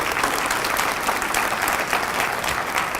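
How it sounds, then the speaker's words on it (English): Audience at a future-teacher event applauding the teachers present, a brief burst of thick, continuous clapping from a sizable crowd, close and fairly loud. "Why don't we give the teachers that are here a round of applause"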